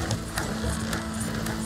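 Horse hooves clip-clopping at a steady, rhythmic pace in Red Dead Redemption 2, fairly quiet and continuous over a low hum.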